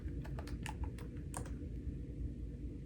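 Rapid keystrokes on a computer keyboard while a password is entered in a Linux terminal, a quick burst of clicks at the start over a steady low hum, then quieter.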